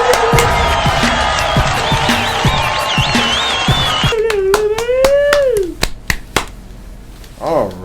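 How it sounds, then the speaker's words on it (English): A round of applause and clapping from a group, mixed with talk and cheering, during a review show for the first three episodes of Invincible, with sharp claps scattered through the second half. "let's give you guys a round of applause"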